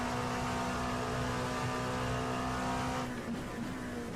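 LMP2 race car in iRacing at Monza, heard from the cockpit with a steady, loud, high-revving engine drone that holds a constant pitch, then shifts and eases slightly near the end as the car comes through the Parabolica on a flying lap.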